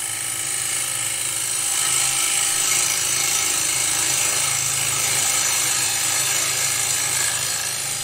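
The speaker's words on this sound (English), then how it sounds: "You can see the way the shavings are now flying off the lathe." A wood lathe spinning fast while a tool cuts a turned wooden plate, giving a steady, loud grinding and rasping roar with shavings flying, continuous and close, with no talking.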